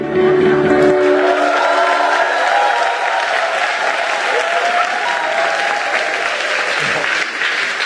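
Loud, dense applause from a church congregation, sustained clapping filling the room with some crowd noise mixed in, continuing steadily throughout.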